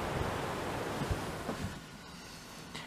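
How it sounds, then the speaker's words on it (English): Wind blows outdoors on a sunny but cold, windy day, heard as steady, broad rushing noise with soft gusty thumps against the microphone, no voices present. "It's a beautiful sunny but still a cold and windy day."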